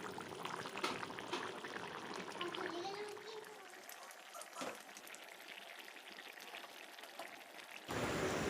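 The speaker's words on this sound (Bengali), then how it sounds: "আমি এখানে গরম জল ব্যবহার করলাম।" Hot water is poured into a pot of chicken curry, giving a steady hissing, splashing pour that runs for several seconds with a faint bubbling simmer and kitchen clatter beneath.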